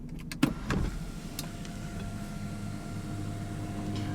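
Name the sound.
car sunroof motor operating, 2017 Subaru Outback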